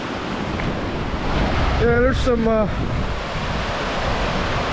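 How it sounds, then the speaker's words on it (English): Moderate waves roll steadily onto the Lake Erie shore at high tide, a continuous washing surf with wind noise, with someone briefly talking over it mid-clip. "decent waves for Lake Erie today."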